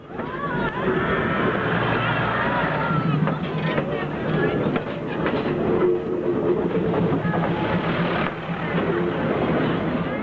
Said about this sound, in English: The train moves at just 19 miles per hour on average